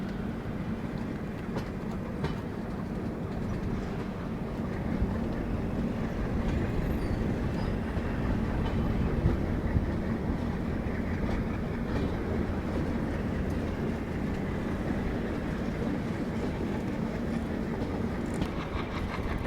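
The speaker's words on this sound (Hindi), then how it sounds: "और अगर आप देख पा रहे हो तो सामने जो है नीचे से गीतांजलि एक्सप्रेस जो है वो जा रही है।" The Gitanjali Express runs past below on a sharp curve of the railway line, giving a steady, loud rumble of wheels and carriages that lasts the whole stretch with no voices.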